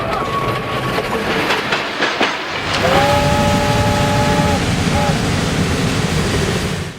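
A lumber company train with diesel locomotives rolling along the rails near a branch junction, a loud steady rumble with rail squeal and clatter, and a narrator talking over it.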